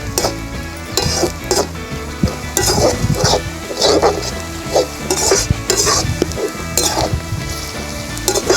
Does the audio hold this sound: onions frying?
yes